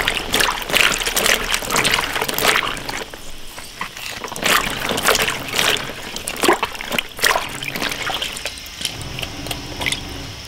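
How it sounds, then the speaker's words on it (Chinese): Braised beef rinsed under running water in a home kitchen, with steady splashing and trickling as the meat is washed by hand, fairly close and continuous with no talk. "把它洗一下。"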